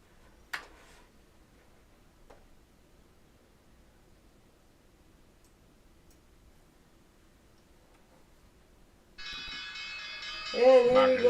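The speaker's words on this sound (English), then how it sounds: "I like that bell." A stock market opening bell rings at the open of a live day-trading session, a loud sustained electronic ring that starts after long near-silence with faint ticks and keeps going to the end.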